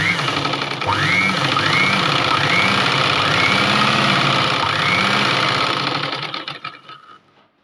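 A sewing machine stitches a blouse with a loud, close, steady motor drone and rapid needle clatter, its pitch rising and falling in repeated sweeps, then the sound fades out near the end.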